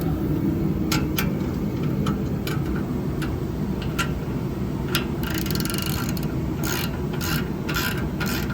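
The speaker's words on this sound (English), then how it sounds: "As you guys tighten the bolts up, the rest of the bolts that aren't done will kind of fall in line." A ratchet tightens bolts on an RV6 J-pipe for an Acura RL, giving rapid, crisp metallic clicking in uneven bursts over a steady shop hum.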